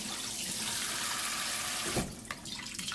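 Rice is rinsed under a running tap in a kitchen sink, a steady broad rush of water followed by a few splashes and sloshes as the grains are stirred and drained.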